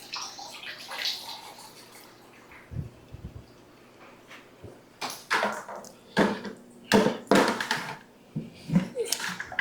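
Water gushes and splashes into a 5-gallon bucket as a fish-tank pump drains an aquarium during a water change. The splashing comes in irregular bursts, louder toward the end, over a faint low background hum.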